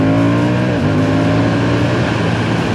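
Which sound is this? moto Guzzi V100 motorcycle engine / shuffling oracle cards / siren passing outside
moto Guzzi V100 motorcycle engine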